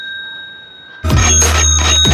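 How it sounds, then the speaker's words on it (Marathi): A bicycle bell rings out loudly and close after a second of quiet, a bright repeated metallic trill that continues to the end. "घंटी घंटी वाजव दाखव. घंटी सायकलची घंटी."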